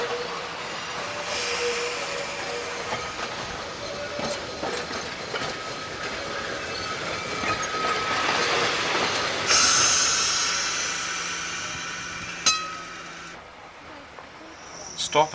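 An electric railway car on the Isle of Man line runs steadily along the track, its rumble and rail hiss continuous with faint wheel clicks and a sharp squeal near the end, while a voice talks over it.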